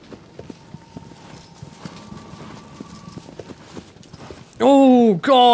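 Horse hooves clip-clop at a steady walking pace in Shadow of the Colossus, fairly close and moderate in level. Near the end a loud vocal burst cuts across the hoofbeats.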